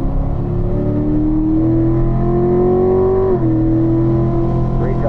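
A Corvette engine on a race track pulls up steadily as the throttle is squeezed, a loud, close, continuous drone rising in pitch and then dipping briefly before climbing again.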